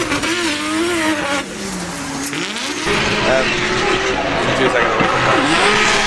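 Drift cars run in practice at a Drift Masters event, engines screaming and revving hard with shifting pitch alongside tyre noise, loud and continuous while a commentator talks over them.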